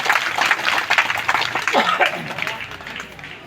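A crowd at a payment protest rally in Fatehpur claps loudly to welcome the media, the dense applause continuing throughout with voices mixed in.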